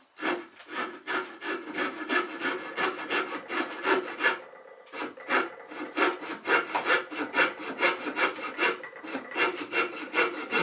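A hand saw cutting wood for a toy boat: steady back-and-forth rasping strokes in a regular rhythm, close and clear, with a brief pause partway through before the sawing resumes.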